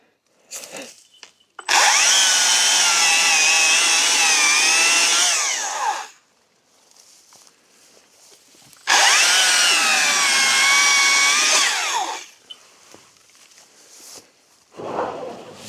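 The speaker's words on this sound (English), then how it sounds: "We ran out of batteries in the chainsaw" A battery chainsaw cuts through wood in two sustained, loud bursts of about four seconds each, with the motor pitch dipping under load, separated by quieter handling noises, in a forestry setting.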